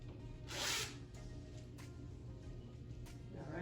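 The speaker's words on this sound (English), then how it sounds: "Put the zipper back." A zipper on a romper pulled along its track, one clear rasping zip near the start followed by a few fainter short zips, quiet and close in an otherwise still room.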